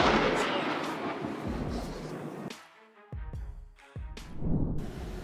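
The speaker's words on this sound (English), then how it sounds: "A man recorded the moment a violent lightning storm erupted in Western Australia, the sky flashing repeatedly," Violent lightning storm in Western Australia, with heavy rumbling thunder rolling loudly for the first half, then sharp close cracks and booms separated by brief quieter gaps.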